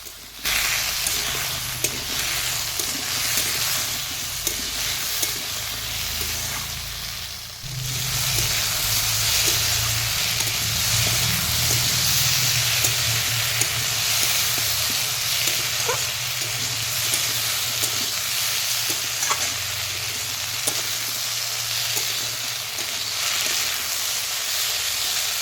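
Vegetables frying with onion, tomato and spices in a pan for a mustard-paste fish curry, a steady sizzle and hiss with occasional stirring scrapes running throughout, close and fairly loud.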